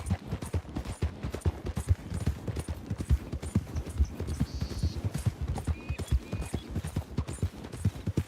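Steady clip-clop of hooves from several horses trotting in Red Dead Redemption 2, close and continuous, with a faint voice or two in the background.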